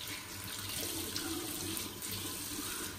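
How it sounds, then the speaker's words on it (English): Water is added to shaving lather during a wet shave, with a steady, close, continuous splashing trickle and no talk. "Just sprinkle water on a little bit at a time."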